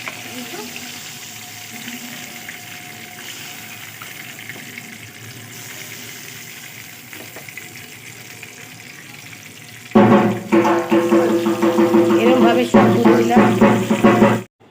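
Loud, dense sizzling of lote (Bombay duck) fish frying in hot oil bursts in near the end after a quieter stretch of low kitchen background noise.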